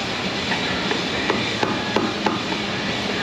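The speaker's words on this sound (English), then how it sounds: "Pry bar action, here it comes." A pry bar works against the axle of a Ford F250/F350 truck during a suspension rebuild, producing a few sharp metallic knocks and clinks over a steady background hiss in a workshop.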